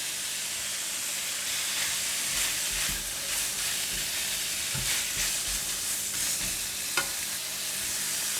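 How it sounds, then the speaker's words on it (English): Minced pork and carrot stir-fry in a wok with a continuous soft sizzle and hiss, with occasional light scrapes and clacks of stirring; no speech. "We need to give it a stir until the minced pork is separated."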